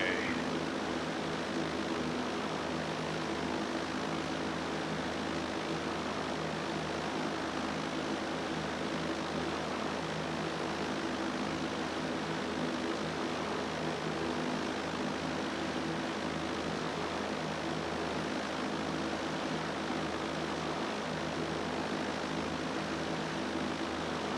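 A Britten-Norman BN-2A Islander twin-propeller aircraft in flight, modeled in X-Plane 12, drones at a steady, even pitch throughout, a continuous engine hum with no pauses and no voices.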